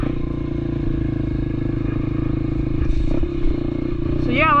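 Honda CRF150F dirt bike running on property trails, a steady close engine drone with some clatter and a slight rise in revs toward the end.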